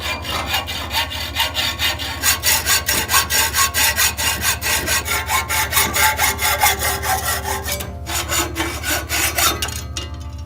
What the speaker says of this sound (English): what I'm going to do is just cut them off with a hacksaw